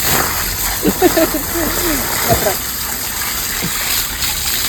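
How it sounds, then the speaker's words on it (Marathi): Water runs in a steady gush, filling a container at home, with a brief voice heard over it near the start. "भरला पाणी बंद करा पप्पा"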